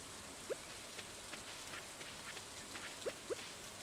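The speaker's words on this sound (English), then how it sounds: "It's raining though, so," Rain falls in the farming video game Stardew Valley, a soft, continuous patter of drops with a few faint, brief chirps over it and no talking.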